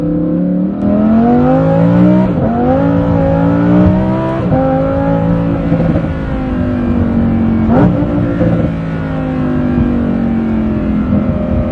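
A powerful McLaren supercar engine revs loudly and steadily, its pitch swelling and dipping through several throttle blips, heard up close with no voices.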